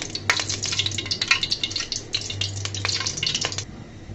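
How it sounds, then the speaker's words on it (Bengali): Soybean cooking oil being poured into a pot and heating, giving a steady close crackle and sizzle with scattered pops and faint clinks, plus a low hum throughout. "এখানে আমি একটা পাতিল বসিয়ে দিয়েছি, দিয়ে দিচ্ছি তেল।"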